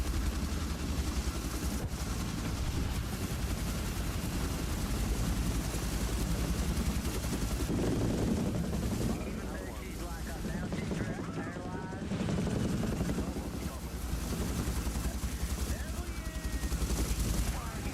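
A formation of helicopters in a video game flies overhead with a dense, continuous rotor roar, with gunfire bursts crackling through the mix and swelling and easing as the aircraft pass.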